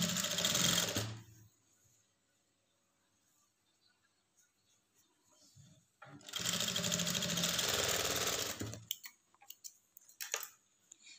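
A sewing machine stitching a lined blouse runs in two loud, steady bursts, a short one followed by a longer run after a quiet pause, close and alone, with faint ticks and handling noises at the end.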